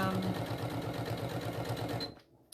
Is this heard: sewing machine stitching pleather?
yes